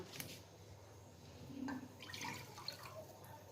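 Water poured onto sugar in a kadhai to make syrup for balushahi, a faint short splash and trickle in a quiet kitchen.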